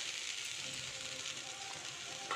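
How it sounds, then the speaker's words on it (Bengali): Spice mix sizzling in hot oil for a vegetarian potato and pea curry, with a steady, soft hiss and faint crackle that runs evenly throughout without any talking. "এখন সেই যে মশলাটা আমি পুরো মিক্স করে রেখেছিলাম ওইটা তেলের মধ্যে দিয়ে দেবো।"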